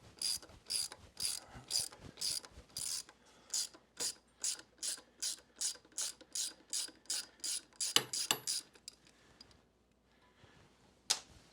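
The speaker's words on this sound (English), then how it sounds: "find your 3/16 Allen socket. Break this bolt free," Quick repeated ratcheting clicks from a 3/16 Allen socket on a ratchet working a Sportster front pulley bolt loose, a steady run of about twenty close strokes, then a pause and a final click.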